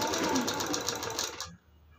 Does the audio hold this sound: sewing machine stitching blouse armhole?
yes